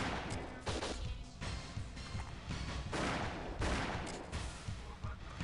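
Machine gun fire in the shooter game WinBack, sustained bursts of rapid gunshots with heavy crashing impacts, loud and dense across the whole stretch, with brief talk mixed in.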